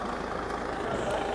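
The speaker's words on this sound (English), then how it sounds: "Sounds like the gearbox on that truck is knackered next to us." A nearby truck with a worn, failing gearbox runs beside a parked car, its low, rough engine drone steady and continuous throughout the short stretch.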